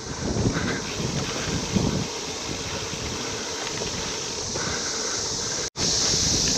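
Wind rushes over the microphone during an outdoor bike ride on a windy, sunny day, a loud constant roar with a brief dropout near the end.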